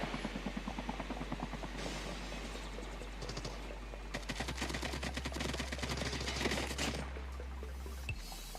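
Helicopter in a video game: a rapid rhythmic rotor chop with a low engine hum, steady throughout, joined midway by bursts of crackling clatter.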